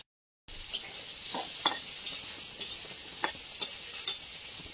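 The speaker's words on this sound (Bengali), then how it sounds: "পেঁয়াজ কাঁচা লঙ্কাটা দিয়ে একটু নেড়ে নিয়েছি" Chopped onion and slit green chilli stirred in a pan, with repeated scraping strokes and clinks over a steady hiss, close and fairly quiet, no talking.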